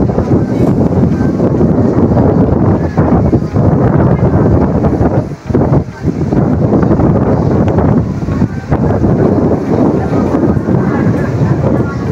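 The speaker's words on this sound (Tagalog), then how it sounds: "Lakas ang hangin guys" Strong wind buffets the microphone in a loud, continuous roar with gusty surges and a couple of brief lulls, by the sea at a marshland in Lopez, Quezon Province, Philippines.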